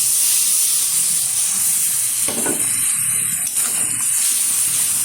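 Water used to rinse the ground spices is poured into a hot pan of pointed gourd for a potol curry, setting off a loud, constant hissing sizzle with a brief splash partway through, close up and without voices.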